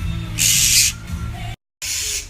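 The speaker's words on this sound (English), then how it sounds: "No matter what you do, you cannot keep birds quiet." Pet birds screech and hiss in harsh, breathy bursts close by, with one long burst followed by a brief pause and another loud burst.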